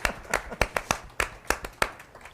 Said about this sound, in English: give yourself an applause for being here